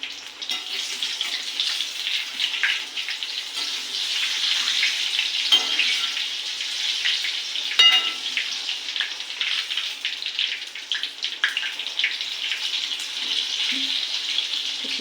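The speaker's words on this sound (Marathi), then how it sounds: "आता आपण हे हळूहळू परतून घेऊया" Ajwain leaf fritters deep-frying in hot oil in a home kitchen: a loud, steady, bubbling sizzle that runs without a break, with no voices.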